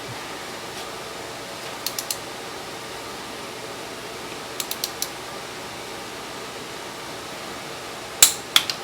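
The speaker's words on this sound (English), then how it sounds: "Torque wrench has been preset to 65 pounds." Torque wrench clicking as it tightens the cylinder head bolts on a Willys CJ3B engine preset to 65 pounds, short clusters of sharp ratchet clicks spaced apart over steady background hiss, the last set louder and closer.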